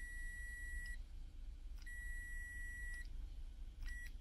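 An old car part with two wires connected gives off a continuous high electronic beep that cuts off and restarts in several distinct bursts, thin and clear over a low background hum, no talk.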